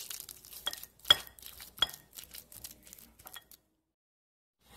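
Deviled egg filling being mixed in a bowl, with a utensil clinking and scraping against the sides in quick, irregular bursts. The sound is close, with no talk, and it stops into silence near the end.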